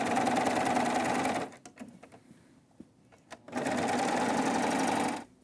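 A serger sewing machine stitches through fabric in two loud, fast whirring bursts, each lasting over a second, separated by a quiet pause with faint handling clicks.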